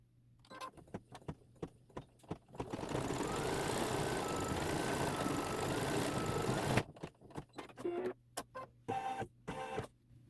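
An embroidery sewing machine stitches a bear head seam on a Santa's Workshop quilt block, running in a steady, rapid mechanical whir for several seconds, then breaking into short separate bursts of stitching with pauses between.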